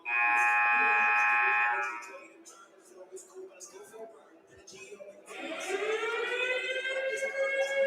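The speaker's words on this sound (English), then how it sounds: "And we've got sirens." A loud wailing siren sounds for two seconds in a gym during a girls' high school basketball game, then fades under a crowd's murmur before another siren rises and holds steadily to the end.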